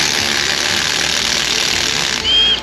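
A 1/4-inch impact driver working on rear brake bolts of a 2005 Silverado, a loud, continuous close mechanical rattle and whine that rises in a brief burst near the end, with no talk.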